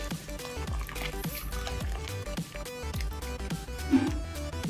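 Lemon water poured gradually into hot milk on the stove, a soft continuous liquid trickle and bubbling heard close up without talk, against music.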